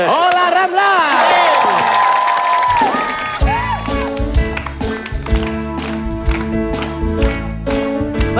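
A studio audience at an Indonesian comedy quiz show claps and cheers in a burst under loud, tonal music stings, the applause blending with the musical accompaniment.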